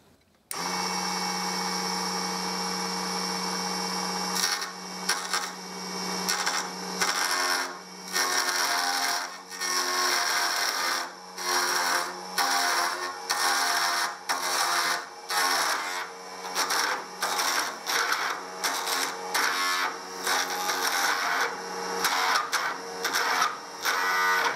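Regular chisel cutting wood on a DC 24V mini lathe, a steady whirring motor hum broken by repeated rhythmic scraping bursts as the tool bites the spinning workpiece, close and fairly loud.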